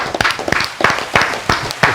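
Sparse applause in a podcast studio as a guest is welcomed, with several distinct, fairly evenly spaced claps close to the microphone.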